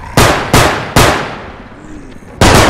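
Sharp, loud blasts from the zombie shooter Bodycam, four punchy bangs in quick succession with short decaying tails between them and a gap before the last.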